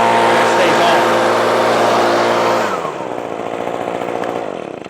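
An Echo PB-2520 handheld leaf blower running loud and close, its small two-stroke engine roaring steadily, then dropping in pitch as it winds down toward idle.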